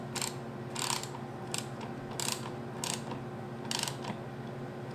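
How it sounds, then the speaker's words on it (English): A hand ratchet and socket turn a wheel bolt on a Halloween door-knocker prop, giving six or seven sharp, close clicking bursts at an uneven rhythm over a steady mechanical hum. "And then just turn your ratchet."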